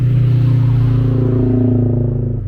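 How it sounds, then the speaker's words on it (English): Toyota 86 with a naturally aspirated 2-litre Subaru boxer engine, a steady, loud, close low rumble holding an even idle-like throb that tapers slightly at the end, with no talk. "It featured a naturally aspirated 2-litre boxer engine designed by Subaru that put out 200 horses, and of course came with that sweet boxer rumble."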